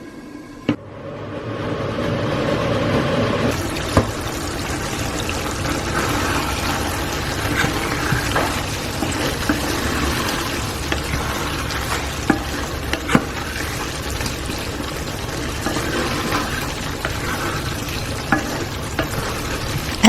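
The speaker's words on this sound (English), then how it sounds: "So lid on, and I'm going to let my potatoes cook." Beef and potato curry cooks in a covered pot, giving a steady, close bubbling sizzle with occasional small clicks and no talking.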